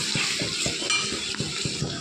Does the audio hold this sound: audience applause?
no